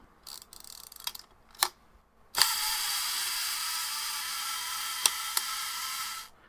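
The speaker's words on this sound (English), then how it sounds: "I'm going to wind it up and do a 3-second shutter speed twice." An Exakta camera is wound with brief mechanical clicks, then its shutter is released for a 3-second slow exposure, a close, sharp snap followed by a steady mechanical whir that runs about three seconds and ends with another click.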